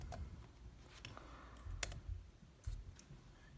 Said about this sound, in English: Type this code up here.